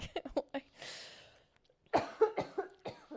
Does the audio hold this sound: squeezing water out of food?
no